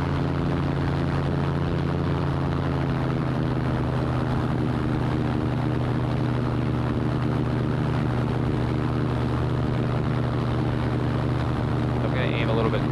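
Small airplane engine droning steadily and loudly throughout, its propeller hum constant as the aircraft comes in low over water toward a landing near a jet ski track.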